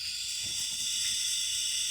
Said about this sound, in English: So I noticed with that ECM relay powered up that there's a hissing noise.